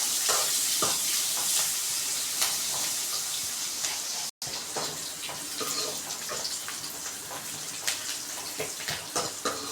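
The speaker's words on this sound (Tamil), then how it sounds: "வெங்காயம் நல்லா வதங்கட்டும்." Onions sautéing in a pan for chana butter masala give a continuous crackling sizzle up close, broken by frequent scrapes of a stirring spoon and one brief gap.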